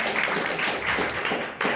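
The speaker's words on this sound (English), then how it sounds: "So give her a round of applause" A crowd claps together in a steady, dense burst of applause that carries on for the full moment, with a brief swell near the end.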